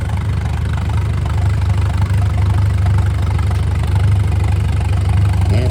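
A vintage 4-cylinder tractor engine chugs along in a tractor parade, a loud, steady low-pitched knocking rumble close by, holding an even rhythm with no talking.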